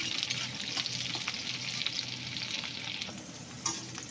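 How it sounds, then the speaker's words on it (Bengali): Garlic, onion, green chilli and chopped ginger fry in hot oil in a pan, giving a steady, close sizzling hiss with occasional stirring scrapes and small pops, no voices. "রসুনটা এরকম একটু ভাজা ভাজা হবে, হালকা ভাজা ভাজা হবে"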